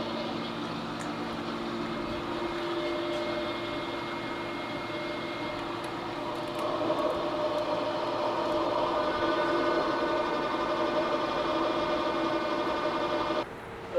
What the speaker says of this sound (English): There is a little bit of sound क्योंकि अभी ये एग्जॉस्ट पंखा हम लोगों ने ऑन किया because there is too much of smoke.